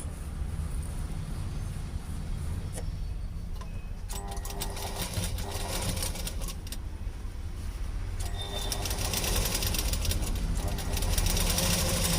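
A sewing machine stitching cloth, a steady close mechanical whirr with a fast rhythmic tick that runs without a break and gets slightly louder toward the end.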